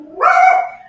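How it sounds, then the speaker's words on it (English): A small dog gives one sharp, close bark that rises and holds for a moment before cutting off, loud and alone indoors. "And excuse my little dog."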